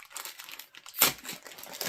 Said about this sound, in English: I'm gonna see if I can take it out from the bag.